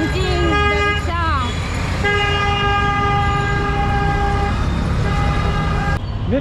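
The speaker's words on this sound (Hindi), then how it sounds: "इधर होंकिंग रिक्शा।" Rickshaw horns honk in dense street traffic in Bangladesh, with loud, overlapping sustained toots stacking up continuously over a constant roar of road noise.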